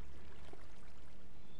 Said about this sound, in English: This is the first ever water ladder I built.